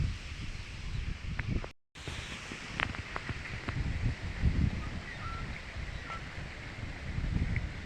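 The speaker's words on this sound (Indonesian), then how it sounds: "Angin di sini sekarang sangat kencang ya" Strong wind gusts buffet the microphone at the Jatigede reservoir fishing spot, a continuous low rumbling roar with rustling that briefly cuts out, then returns unbroken, with no talking.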